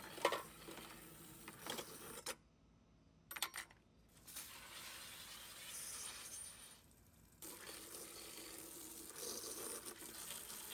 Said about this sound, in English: throwing all the bits in here and just doing one more quick rinse down